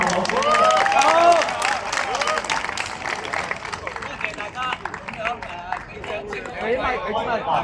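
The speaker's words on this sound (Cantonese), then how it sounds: "俾啲掌聲葉老師。" A crowd at a Mid-Autumn evening gala of a Hong Kong nautical school applauds the 90-year-old teacher Ip, the clapping mixed with cheering, chatter and nearby voices.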